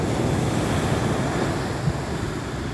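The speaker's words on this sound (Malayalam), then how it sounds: "നല്ല ശക്തിയിലാണ് തിരമാല അടിക്കുന്നത്" Strong sea waves crash on a beach in a steady, loud, broadband roar that never lets up, mixed with wind buffeting the microphone, with no voices.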